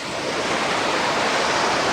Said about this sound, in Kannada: ಓಹೋ ಓಹೋ, ನೋಡಿ ಅಲೆಗಳು ಯಾವ ರೀತಿ ರಭಸವಾಗಿ ಬರ್ತಾಯಿದೆ.